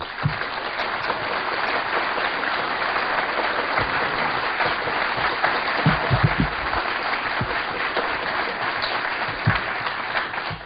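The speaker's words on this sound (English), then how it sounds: "please give a warm round of applause to Mark Phillips and Cathy O'Brien" Sustained audience applause at a talk welcomes two speakers, a dense, even wash of clapping with occasional louder individual claps standing out, continuing for the whole stretch.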